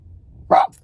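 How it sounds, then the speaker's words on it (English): A puppy lets out a single short, sharp bark nearby, loud against a quiet low background hum, then silence. "Sorry about the puppies barking,"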